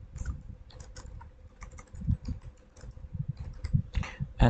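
Typing on a computer keyboard, a steady run of quick clicking keystrokes in uneven bursts, close and fairly quiet, with no voices.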